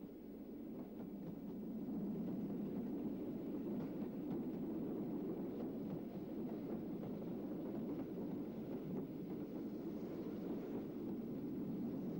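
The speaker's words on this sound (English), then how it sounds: "Here the train is approaching the top of the climb after Glenfinnan, the last part being 1 in 70." Train climbing the final 1 in 70 gradient toward the summit after Glenfinnan, a steady low rumble heard at a moderate distance, continuous and unbroken with no voices.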